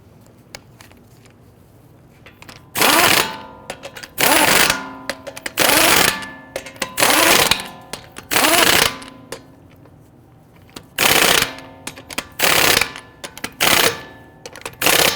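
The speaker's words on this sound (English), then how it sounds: "We want to go ahead and get all of our lug nuts started by hand, and then we'll snug them down." Lug nuts being run down on a 2011-2023 Dodge Charger wheel, heard as a series of loud, close impact-tool bursts about a second each, separated by short pauses and repeating roughly a dozen times.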